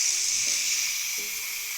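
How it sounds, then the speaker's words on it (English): A Ninja Foodi pressure cooker cooking pork carnitas vents its steam pressure in a loud, steady, unbroken hiss that fills the whole short stretch, with faint low tones underneath. "We're gonna release the pressure."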